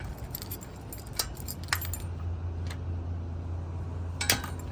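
A steel gate latch and deadbolt being worked: a few soft metallic clicks and clinks, close and fairly quiet, over a steady low hum.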